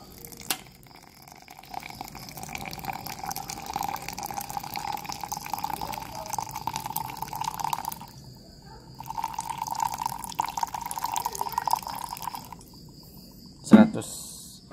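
Hot water at about 90 degrees Celsius poured steadily over coffee grounds, a soft continuous trickle running for several seconds, pausing, then resuming, with a brief louder clink near the end.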